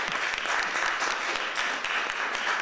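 Audience applause at a New Jersey 16th district legislative debate, a short burst of steady, dense clapping from a room full of people, moderately loud.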